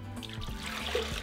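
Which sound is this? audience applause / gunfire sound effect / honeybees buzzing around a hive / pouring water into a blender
pouring water into a blender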